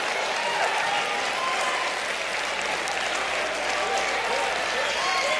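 Audience at a church event applauding and cheering wildly, a dense continuous roar of clapping sustained from start to finish at moderate level.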